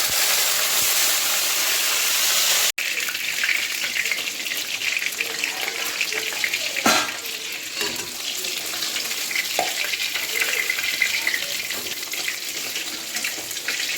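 Bhetki fish bones fry in oil in a wok, a loud, continuous crackling sizzle close by, with a sharp click near the start and occasional stirring knocks.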